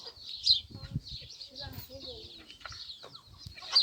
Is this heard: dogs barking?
no